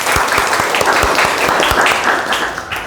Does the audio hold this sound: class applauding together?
yes